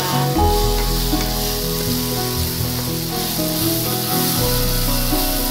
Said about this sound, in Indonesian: Diaduk-aduk ini bu sampai matang